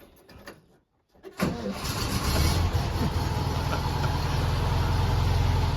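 A 1960 Canadian Volkswagen Beetle engine cranks briefly after a short silence, catches and settles into a steady, loud air-cooled idle that runs on alone, with a small tick or two before the start.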